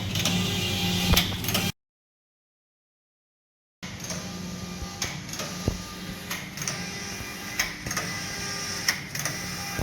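A collar knitting machine at work, rhythmic mechanical clacking and sliding of the carriage across the needle bed, close and steady, broken by a short gap of silence.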